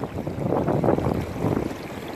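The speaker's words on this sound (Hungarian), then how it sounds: "Itt már a szél is érezhető." Wind blows across a Danube island on a spring hike, a rough, gusting rush of air buffeting the microphone, swelling and easing in waves for the whole stretch.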